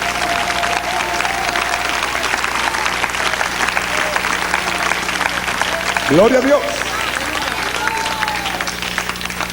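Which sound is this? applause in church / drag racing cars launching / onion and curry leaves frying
applause in church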